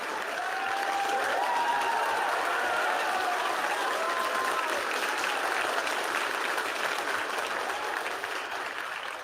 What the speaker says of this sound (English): As you can probably tell from that applause